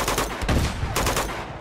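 Gunfire in Uncharted 2: Among Thieves, loud bursts of automatic weapon fire in rapid clusters, pausing briefly between volleys.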